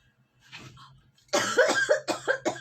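A faint voice, then a run of five or six harsh, loud coughs in quick succession, close by.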